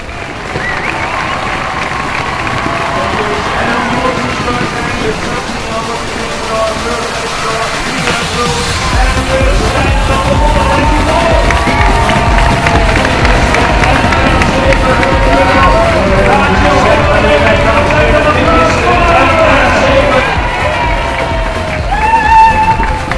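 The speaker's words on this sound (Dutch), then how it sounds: "ik geniet van uw applaus" Crowd applause and cheering at the Zevenheuvelenloop running race, sustained dense clapping with shouts and babble from a large audience, swelling loud and steady, with a voice speaking over it.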